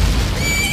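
A horse whinnies in the video game Majora's Mask, a short, loud, close neigh with a high rising tone over a busy game background.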